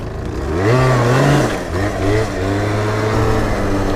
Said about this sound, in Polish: Tak się dzieje jak macie łysą oponę mordy. Chcecie skądś wyruszyć, a tu gumę się pali.